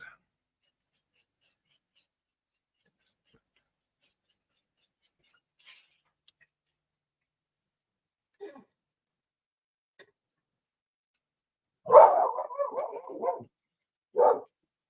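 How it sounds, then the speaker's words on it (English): A dog barks indoors against near silence: a quick cluster of barks comes first, followed moments later by a single sharp bark. A few faint taps and rustles are heard beforehand. "That dog sound."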